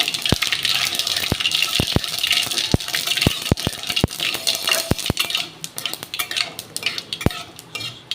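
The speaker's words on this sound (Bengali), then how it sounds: "দুটো শুকনো লঙ্কা আর সর্ষেগুলো ফুটবে।" Dry red chillies and mustard seeds spluttering in hot oil for a sour curry of small fish with taro: loud, sharp pops scattered irregularly over a hissing sizzle, close up and with no talk.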